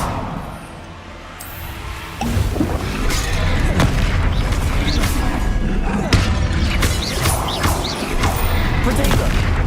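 A booming explosion from the Bombarda spell in the video game Hogwarts Legacy hits loudly, with crashing impacts and rumbling debris that continue amid game combat noise after a quieter start.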